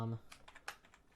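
A voice trails off, then a quick run of crisp keystrokes follows as someone types on a computer keyboard while scripting in Roblox Studio, five or six light clicks close by.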